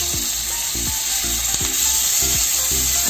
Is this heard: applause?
no